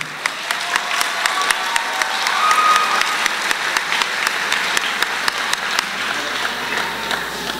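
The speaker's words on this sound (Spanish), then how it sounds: "Un aplauso para el compañero." Audience applause at a 2010 CBTis No. 1 graduation ceremony in Fresnillo, steady clapping filling a hall for the whole stretch, with individual sharp claps standing out and a brief swell near the middle.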